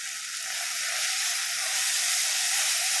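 Mint leaves and coriander sautéing in a pan for Chennai-style mutton biryani, giving a steady, bright sizzle and hiss that holds evenly throughout with no talk over it.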